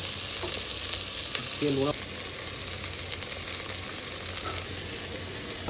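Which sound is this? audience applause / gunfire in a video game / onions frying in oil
onions frying in oil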